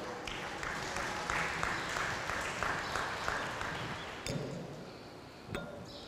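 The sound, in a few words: audience applauding a married couple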